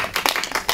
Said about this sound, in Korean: 그래 박수 한번 쳐줘요.